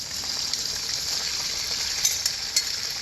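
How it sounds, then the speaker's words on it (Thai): Sweet bamboo shoots stir-frying in a pan with olive oil and fried garlic, a bright, steady sizzle close by, punctuated by a few sharp stirring clicks, with no voices. "หน่อไม้หวาน รวนให้ได้น้ำได้เนื้อก่อน"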